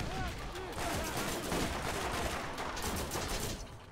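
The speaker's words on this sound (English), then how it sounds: "I hate that pistol so bad" Rapid bursts of pistol gunfire from the Borderlands video game crackle like firecrackers, dense and continuous throughout at steady volume.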